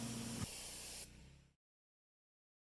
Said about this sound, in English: So now I'm just in the wash down, just washing away all the dirt and grime that the flat surface cleaner's left.